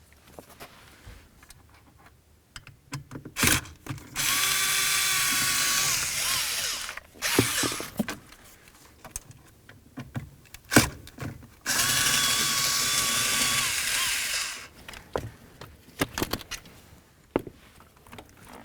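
A power tool backing out the ignition switch mounting bolts on a 1999-2007 Ford F-250, running in two sustained whirring bursts of a few seconds each, with clicks and clatter of handling between them, close and loud.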